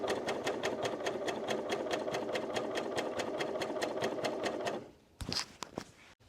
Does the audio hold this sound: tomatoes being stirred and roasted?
no